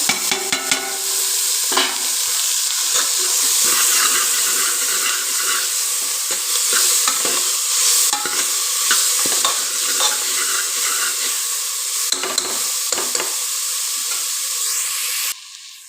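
Onion and tomato frying in a pan for a traditional Kundapura-style suvarna gadde palya, with a loud, continuous hiss and repeated scraping strokes of a spoon, close up, the sizzle cutting off at the end.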